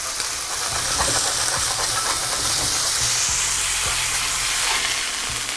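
Onion smash burgers sizzling loudly and steadily on a hot griddle as they are flipped, a dense, continuous hiss with a few faint scrapes underneath, close up.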